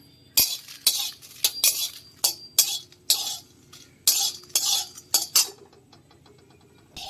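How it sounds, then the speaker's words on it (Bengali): Whole dried red chilies are tossed in a pan with a metal utensil, producing a quick series of close scrapes and clinks in irregular bursts, with quiet gaps between them and no voices. "ভেজে নিচ্ছি আগে লঙ্কাটা।"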